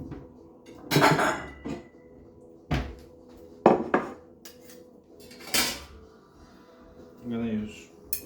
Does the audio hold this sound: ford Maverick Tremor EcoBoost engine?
no